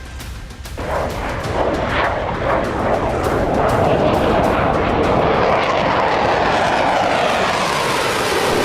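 A four-engine B-2 stealth bomber roars overhead, a loud and continuous jet engine rumble that swells and holds for several seconds, with no voices.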